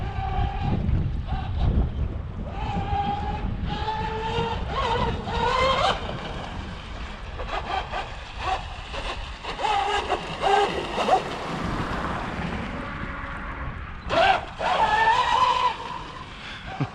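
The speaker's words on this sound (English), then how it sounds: "I am just barely feathering the throttle on that turn." An RC car driving hard with the throttle feathered through a turn, its electric motor whining and rising and falling in pitch over tire skid and heavy wind buffeting on the microphone.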